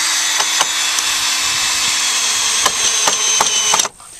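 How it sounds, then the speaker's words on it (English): A power drill drives decking screws into pallet wood while a farm fence is built. The motor whines loudly and steadily for nearly four seconds, with repeated sharp clicks as the screw seats, then cuts off into quiet. "These decking screws don't need pre-drilling. You can just put them right in."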